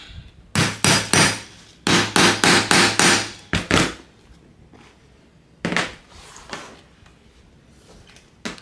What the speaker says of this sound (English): And we're gonna hammer it a few times.